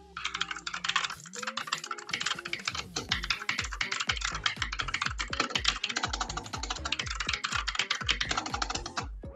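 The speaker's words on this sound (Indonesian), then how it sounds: "Sekarang saya coba akan tes ngetik ya, keyboard di sini nih." Fast, continuous typing on a computer keyboard, with dense, rapid clacking keys close to the microphone and no pauses.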